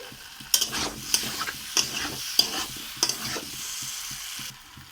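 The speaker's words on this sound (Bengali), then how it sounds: "কষিয়ে নেব সামান্য একটু চিনি দিচ্ছি" Potato curry with a pinch of sugar is sautéed in a pan, a steady sizzle broken by several sharp spatula scrapes and clinks as it is stirred, close and clear with no talking.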